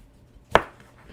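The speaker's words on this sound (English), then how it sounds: "So go ahead and start chopping those up." A single sharp knife chop on a cutting board while preparing ingredients for mac and cheese, one crisp close thud standing alone in a quiet kitchen.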